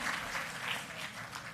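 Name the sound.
audience applause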